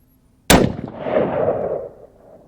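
A single rifle shot fired while zeroing cracks out sharply and loud, followed by a rumbling echo that rolls on for over a second before fading away.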